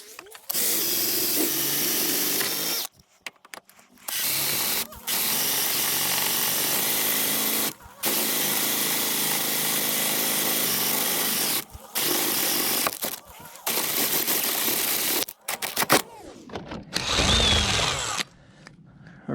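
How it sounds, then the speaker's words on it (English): Power drill boring out the wing fixings on an R53 Mini Cooper S, loud sustained whirring bursts that stop and restart several times with short gaps, ending in a brief grinding stretch. "I'm going to get a slightly bigger drill bit just to get those out"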